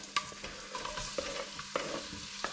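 Onions go into a hot pan for Thai-inspired pumpkin soup and sizzle faintly, with a few sharp clicks of a utensil stirring against the pan.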